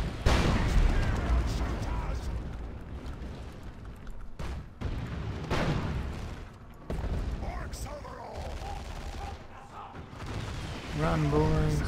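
Ork cannon artillery in Warhammer 40k Dawn of War 2 booms repeatedly in dense battlefield noise, heavy blasts and gunfire stacked over game voices and commentary.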